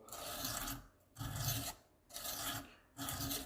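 Steel knife blade, a Civivi Relic in Nitro V, drawn across a sharpening stone in four steady strokes with short pauses between, a close, loud, gritty rasp and no talking.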